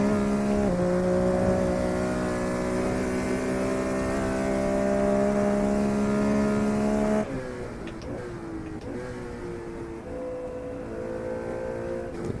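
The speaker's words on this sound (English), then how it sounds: "the tires are squealing, so again, not that super overly grippy car." Race car in a sim racing game holds a steady high engine note with tires squealing, then the pitch shifts and steps up through gear changes as it drives on.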